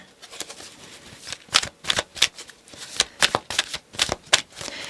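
Oracle cards being shuffled for a tarot reading, a rapid series of crisp riffling flicks and slaps, close and fairly loud, with bursts coming in quick uneven clusters.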